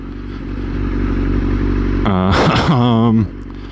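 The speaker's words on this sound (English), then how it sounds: "My bike just broke. I think my chain broke." A motorcycle on a highway after its chain broke drones with a loud, steady engine and wind roar. About two seconds in, a wavering, whining pitch sweep cuts through briefly before the noise drops away.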